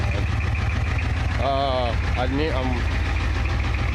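A 1985 Ford F350 with a 6.9 IDI International diesel V8 idles slightly rough, a steady low rumble running throughout while someone speaks over it nearby.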